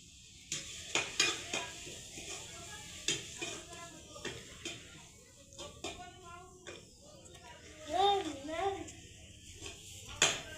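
Gram flour is stirred and roasted in oil in a pan over a wood-fired stove, with soft scraping strokes and a low sizzle under intermittent talk.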